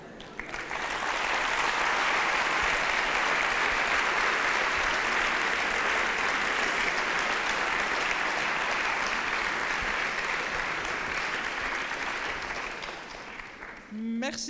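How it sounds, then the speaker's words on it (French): Thunderous audience applause at a Swiss science-communication final, a dense roar of clapping that swells in quickly, holds loud and steady for many seconds, then fades out as a voice begins at the end. "je vous demande de faire un tonnerre d'applaudissements à Astrid Épinay, la rectrice de l'Uni"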